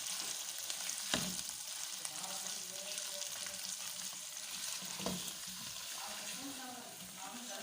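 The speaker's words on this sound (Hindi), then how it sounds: "अब इसको थोड़ा सा भूनना है हमने" Mustard greens for sarson ka saag sautéing in oil, a steady close sizzle and frying crackle throughout with a couple of sharp stirring knocks, no one speaking.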